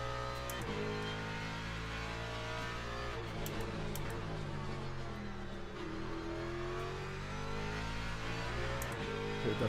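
Race car engine in a racing video game, droning steadily at high revs with rising and falling harmonic tones as the car accelerates, loud and continuous throughout with no talk.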